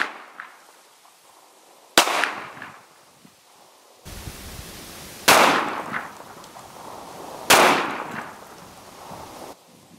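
Three sharp 9mm pistol gunshots from ammunition test rounds, including G2 Research R.I.P. rounds, crack out at spaced intervals, each loud report followed by a short decaying tail against quiet outdoor background.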